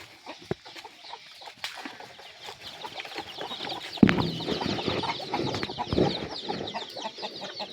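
Native chickens cluck and call inside a farm cage holding young birds, a busy overlapping flock chatter close by that swells louder midway with sharp squawks and a rustle of wings.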